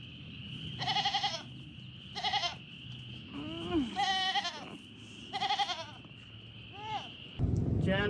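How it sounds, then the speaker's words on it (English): A goat in the video game Limbus Company bleats in several separate wavering calls over a low background hum, with a voice talking in between. "This goat was looking for its kid"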